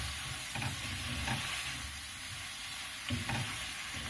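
Cream hits a hot pan and sizzles with a steady, close hiss, while faint stirring and occasional light clinks of a utensil sound over it.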